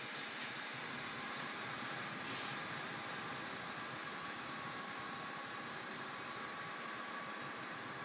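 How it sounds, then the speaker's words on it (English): Truck air brake valves released, a steady broad hiss of escaping air that stays constant and fairly close throughout, with a faint engine-like rumble underneath. "Release the clutch now and release both brake valves and wait for my needles to stabilize or stop moving."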